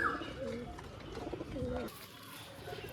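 Show-quality pigeons, male and female, give soft rolling coos close by, faint and low, with a short pause toward the end.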